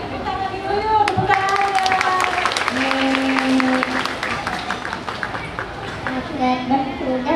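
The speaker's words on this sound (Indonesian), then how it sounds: "Tepuk tangan dulu yuk, tepuk" Crowd applause at a graduation ceremony for young religious-school students in Indramayu, a steady patter of many hands running the whole time, with children's voices and music tones mixed in over it.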